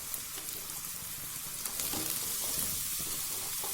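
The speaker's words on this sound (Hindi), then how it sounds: "इसको भी तकरीबन हम 1 मिनट तक फ्राई करेंगे इसी ऑयल के अंदर, बिल्कुल लो फ्लेम के ऊपर" Capsicum and carrots frying in oil over a low flame give a steady, even sizzle with a soft hiss throughout, close and constant, with no voices.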